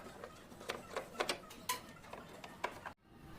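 Screws being removed from the underside of an air conditioner indoor unit during cleaning: a series of sharp mechanical clicks and ratcheting ticks, close and fairly quiet, ending abruptly.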